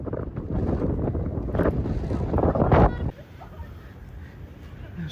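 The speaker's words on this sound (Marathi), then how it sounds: "हवा चला खूप जोरात चालू आहे" Strong wind roars across an Irish beach in Donegal during a storm, loud gusts buffeting the microphone for about three seconds before dropping to a softer rush, with voices faintly present.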